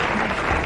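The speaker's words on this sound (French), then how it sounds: "Nous applaudissons Madame Chemoul" An audience in a 1990 French television studio applauds Madame Chemoul, a dense burst of clapping that fills the whole brief moment.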